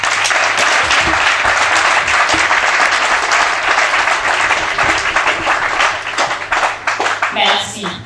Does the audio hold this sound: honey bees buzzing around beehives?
no